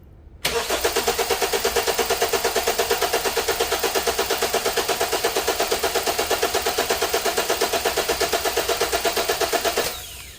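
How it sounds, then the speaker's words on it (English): An engine's starter cranks steadily for about nine seconds during a starting-system voltage drop test on a car with a hot, faulty cable connection, a loud, even, rapid pulsing churn that cuts in abruptly and stops without catching. "So let's crank the engine"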